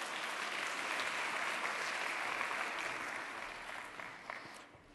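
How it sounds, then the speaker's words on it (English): An audience at a live event applauds a volunteer with a dense, sustained clapping that holds steady and then eases off toward the end, close and loud with no voices on top. "How about a round of applause for Hayley?"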